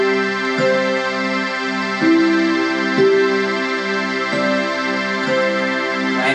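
A steady synthesized drone with a low major-chord hum sustains throughout while single pentatonic melody notes step in over it at random, one every second or so, evenly loud.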